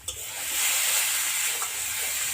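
Spice paste with coconut sizzles steadily in hot oil while cooking for a Bengali jackfruit (echor) curry, a continuous close frying hiss with faint stirring scrapes and no voices.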